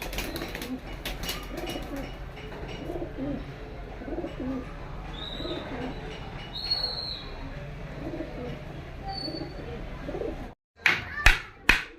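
Pet pigeons kept at home coo in soft, repeated low burbles, layered over a steady background hum, with occasional chirps; a few sharp claps or knocks come near the end.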